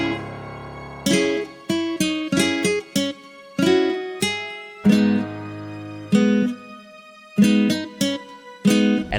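Layered piano, guitar and strings play a choppy R&B-style beat in the manner of 2000s tracks, with short rhythmic stabs and brief gaps, loud and alone without any voice.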